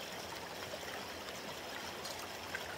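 A stream flows in the countryside with a faint, steady trickling wash. The water sounds continuous and even, with no voices.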